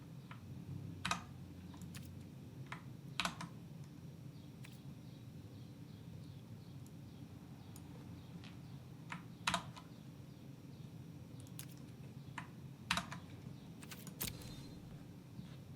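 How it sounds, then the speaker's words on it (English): Quiet computer keyboard typing, scattered irregular keystrokes with occasional louder clacks over a low background hum, no talking. "It's hard to type with this."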